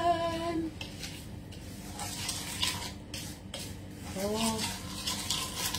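Food frying in oil in a pan over a low flame is stirred, giving a soft sizzle with scraping and clinking from the utensil. Someone talks intermittently over it.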